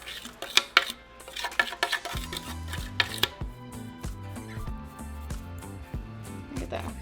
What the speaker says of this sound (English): you can always use a Ziploc bag and just crush them like that